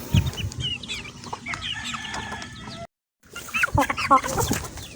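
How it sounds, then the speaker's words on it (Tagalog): Several chickens on a Bisaya farm cluck and squawk close by in busy, overlapping bursts, broken by a short silent gap partway through. "Naman to yung mga manok diri nga mga palaaway kayo."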